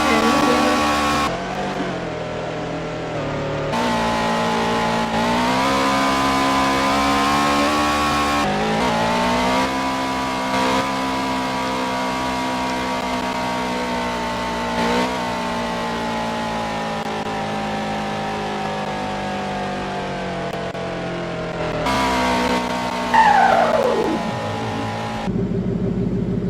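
Honda NSX engine in the Driving Empire video game, a steady loud droning hum with gear-shift steps in pitch, and a brief tire squeal near the end. Voices are faint beneath the engine.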